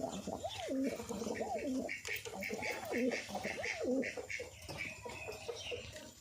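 Giribaj or Madras pigeons coo close by in a run of about four rising-and-falling throaty calls, spaced roughly a second apart, with faint background noise and a brief voice between calls.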